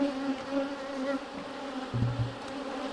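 Black honeybee colony droning steadily during a hive inspection, a close, continuous buzz with individual bees flying past the listener, no voices.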